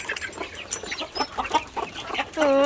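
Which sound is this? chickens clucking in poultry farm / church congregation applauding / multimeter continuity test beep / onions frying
chickens clucking in poultry farm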